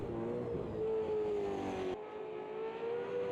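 A V8 Supercar engine in Automobilista 2 at Bathurst drones steadily at high revs, with a sustained whining note that shifts pitch briefly mid-run, continuous and fairly loud with no talk.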